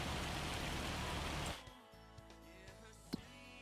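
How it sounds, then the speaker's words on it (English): Hail falls in Farming Simulator as a dense, steady hiss of pattering for about a second and a half, then stops abruptly, leaving quiet background tones with a few faint clicks. "It sounds like hail too."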